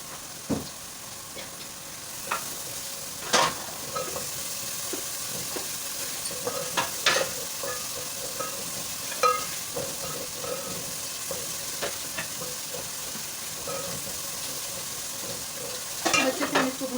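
Machine-minced keema fries in about one and a half cups of oil with salt, a steady sizzle running throughout while a spoon scrapes and stirs in irregular clicks and knocks, with a few sharper clatters near the end.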